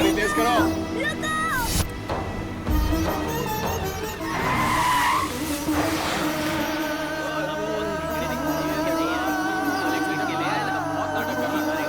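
A car speeds and skids in a film action scene: sustained tire squeal and engine roar under a continuous dramatic music score, with shouting voices mixed in throughout.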